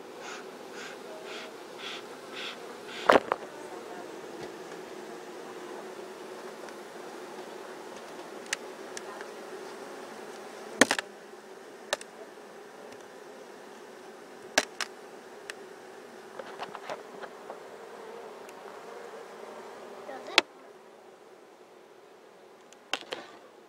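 Honeybees hum steadily around backyard hives during an inspection, a continuous low drone with occasional sharp knocks and clicks from handling the boxes, with no talking.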